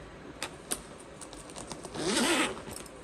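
Zipper on a pocket of a sewn fold-over crossbody bag: soft handling taps and clicks first, then one quick rasping pull of the zip lasting about half a second, close and moderately loud, with no talking.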